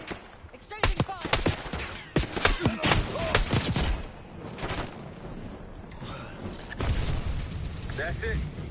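A gunfight in Call of Duty Black Ops 6 rattles with rapid bursts of automatic gunfire and sharp single shots, loud and close, mixed with shouted voices and bits of game chatter.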